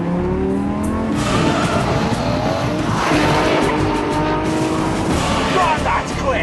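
A Lamborghini Murcielago hypercar driven hard, with a loud, continuous engine roar and tire squeal. The sound is close and sustained, surging and easing over several seconds.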